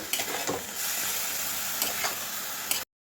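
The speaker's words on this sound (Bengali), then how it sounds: "আবারও তিন চার মিনিট ধরে মশলার সাথে বাঁধাকপি আলু ভালো করে কষে নেব" Cabbage and potato being stirred with spices, turmeric and salt in a pan, giving a steady frying sizzle with a few scraping stir strokes, fairly close, before an abrupt cutoff.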